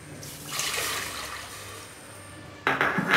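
Water poured into a pot of masoor and toor dal lentils for an Odia vegetable dal, a steady splashing pour that runs for a few seconds and then ends in a brighter, louder clatter of liquid.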